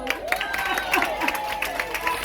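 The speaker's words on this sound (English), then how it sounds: "Give him a round of applause." Audience applause at an independence ceremony, a crowd clapping steadily with scattered cheers, heard through a public-address system with some ringing tones and voices mixed in underneath.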